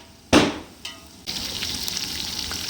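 Onions for mutton biryani sizzle in a pot; a couple of sharp utensil knocks and stirring scrapes come first, then a steady, bright frying hiss settles in close by.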